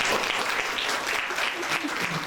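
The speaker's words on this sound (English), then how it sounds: "Give a huge round of applause." An audience at a young writers' conference in Pakistan claps loudly and continuously, a dense, sustained wash of applause filling the room.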